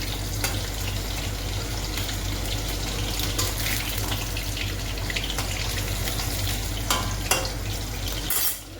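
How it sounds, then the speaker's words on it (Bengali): Potatoes frying in a pan for a meat dish at home, a steady dense crackle and hiss that runs unbroken and fairly loud at close range, with a few sharper clicks and scrapes near the end. "মাংসের জন্য আলুটা ভেজে নিচ্ছে।"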